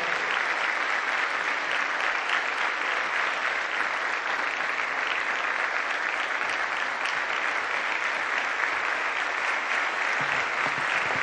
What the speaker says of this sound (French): et nos applaudissements débordantes,